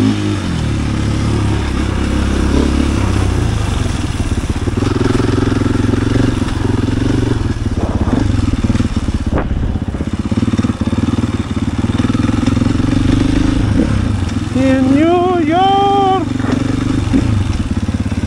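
A 2022 KTM EXC-F 500 enduro motorcycle being ridden, its engine droning loud and close throughout with uneven throttle changes and rising revs toward the end, plus wind and ride clatter.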